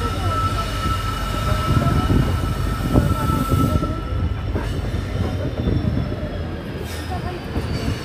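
Freight train rolling past near Ramganga bridge station on the Badaun to Bareilly line: a steady, loud rumble of wagons with a sustained wheel squeal and occasional clanks throughout.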